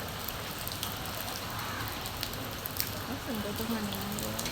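Steady rain falls throughout, a broad even hiss with scattered drops striking surfaces, while a voice hums faintly underneath near the end.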